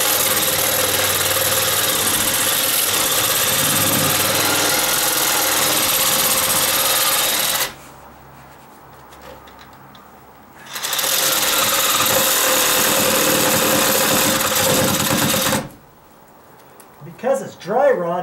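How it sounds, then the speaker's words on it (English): A power saw cuts into a dry-rotted 2x6 wooden deck riser, its loud buzzing cut running in two long bursts separated by a quiet pause, with brief talk at the end. "I think I can just jam the blade in here and cut it"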